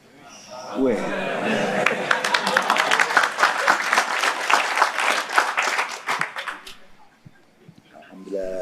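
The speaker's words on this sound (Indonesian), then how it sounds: "terima kasih yang udah memberi tepukan" Audience applause from a crowd at an Islamic religious lecture, a dense burst of clapping rising quickly and holding steady for several seconds before fading, with a voice briefly at the start and end.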